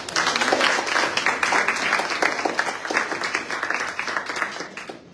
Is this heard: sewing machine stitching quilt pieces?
no